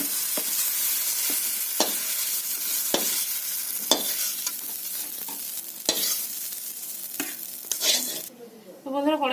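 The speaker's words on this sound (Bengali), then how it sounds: "চিমটা আমি ভেজে নিচ্ছি" Flat beans fry in oil in a wok with a constant bright sizzle, punctuated every second or so by sharp scrapes and clacks of a spatula stirring, close and fairly loud, with a brief voice near the end.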